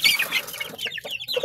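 Farm chickens clucking nearby, a short run of quick, chattering clucks and squawks with no talking.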